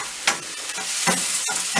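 Chopped Charleston peppers and onion being stirred and sautéed in a pan, a steady close sizzle with scraping stir strokes breaking through every half second or so.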